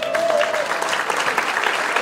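A concert audience applauds the evening's producer, a dense, steady wash of many hands clapping close by, with a brief tonal whistle near the start.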